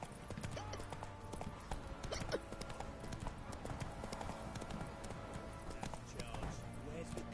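The horse Roach gallops in The Witcher 3, its rapid hoofbeats drumming steadily beneath a voice speaking.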